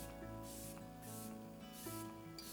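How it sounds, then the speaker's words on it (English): Three soft bursts of fine mist setting spray hiss, evenly spaced about a second apart, close by over a faint steady background hum. "That's the first like really fine mist sprayer that I've had"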